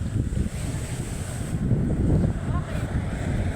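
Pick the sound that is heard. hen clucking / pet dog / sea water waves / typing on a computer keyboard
sea water waves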